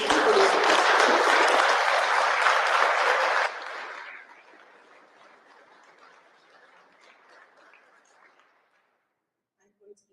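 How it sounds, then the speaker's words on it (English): Loud, sustained applause from a crowd at a city council meeting that fades out gradually over several seconds, ending in near silence. "So if we could have a round of applause"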